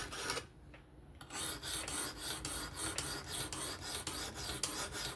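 A Kizer October folding knife with a 20CV steel blade is ground on a Work Sharp Professional Adjust sharpener. It gives a close, rhythmic rasp as the edge is drawn again and again, about every half second after a short pause. No one talks.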